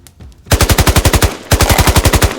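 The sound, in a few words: small arms fire sound effect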